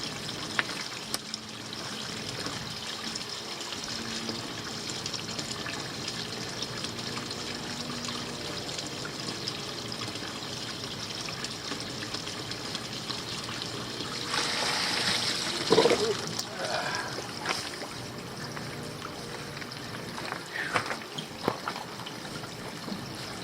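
A pond pump runs steadily with water trickling through a BioSteps 10 filter, a continuous close, fizzing wash of flowing water with a brief louder splash partway through.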